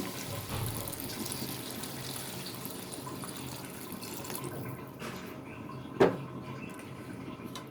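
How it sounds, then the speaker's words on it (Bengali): Water is poured into a pot of dried fish curry in a home kitchen, a faint steady pouring hiss with a single sharp clink near the end. "এ পর্যায়ে আমি পানি মিশিয়ে দিচ্ছি"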